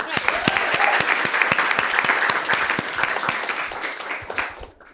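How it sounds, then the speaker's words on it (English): A debate audience breaks into a round of applause, dense and sustained clapping that stays loud for several seconds before thinning out at the end. "Round of applause."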